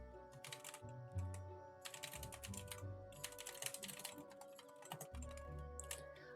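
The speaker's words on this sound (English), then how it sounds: "Sorry that my typing is so loud, by the way." Loud, clicky computer keyboard typing in quick irregular bursts with brief pauses, close up, over a low steady hum and faint background game sounds.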